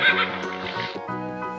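A horse neighs in a fairly quiet, brief whinny with a shaky, pulsing quality, heard alone without any talking.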